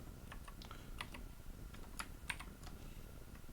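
Keys clatter on a computer keyboard in a quick, irregular burst of close, light taps over a soft steady room hiss.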